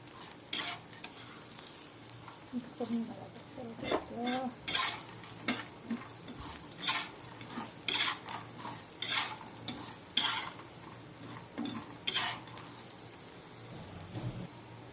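Coriander seeds, sesame seeds and chillies dry-roast in a pan, with a quiet background hiss broken by repeated scraping stirs and light rattling of the seeds throughout.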